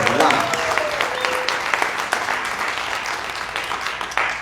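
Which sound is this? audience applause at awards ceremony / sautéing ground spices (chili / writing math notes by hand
audience applause at awards ceremony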